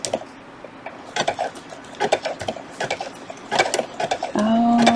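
An embroidery sewing machine stitches a hooded towel in uneven bursts of rapid mechanical clatter, with pauses between runs and a steadier whirring hum near the end, close and fairly loud.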